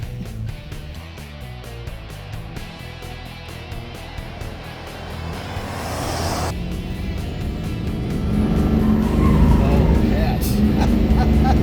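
A third-generation Cummins common rail diesel pickup truck, tuned to about double its stock horsepower, accelerates hard. A loud engine roar rises steadily while the turbo whistle builds, and a few short spoken exclamations sound over it.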